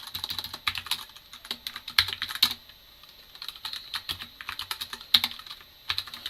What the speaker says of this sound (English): I'm using the mechanical keyboard, so you guys will hear the sound